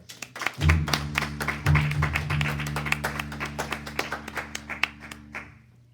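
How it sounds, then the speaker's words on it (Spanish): Church congregation clapping in a quick, uneven patter of many hands over a sustained low hum, loudest early and tapering slightly toward the end. "Démosle un aplauso al Señor."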